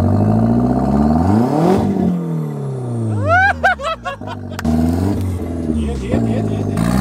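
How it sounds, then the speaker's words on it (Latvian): A turbocharged engine sits out of the car, bound for a VW Golf 2, droning loudly up close. It rises and falls in revs, with whistling turbo tones in the middle, while people talk over it. "Bet tā skaņa turbīnai,"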